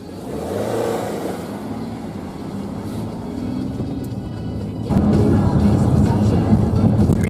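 A tuned car laps nearby, its engine droning and revving, first moderate and then swelling into a louder, rougher roar as it comes closer.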